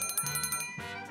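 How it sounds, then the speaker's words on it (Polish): A bright notification bell rings several quick strikes in a row, then one final chime that rings out, loud and alone with no talking. "Sprawdźcie i kliknijcie dzwonek powiadomień"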